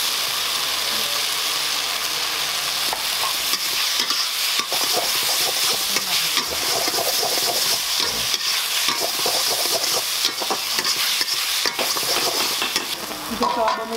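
Green onions stir-fried for roadside-style Chinese bhel give a steady, close sizzle, and a spatula scrapes and clatters against the pan in a busy rhythm throughout.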